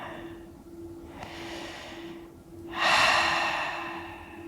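Slow, deep breaths during a yoga session, a long soft inhale followed by a louder, fuller exhale, close and alone over a faint steady hum.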